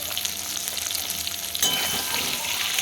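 Potatoes frying with salt and turmeric in a pan, a close, continuous crackling sizzle that swells suddenly louder partway through and then holds steady, with no talk.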